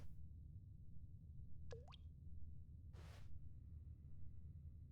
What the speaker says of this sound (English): Oh, actually, no, there's a leak.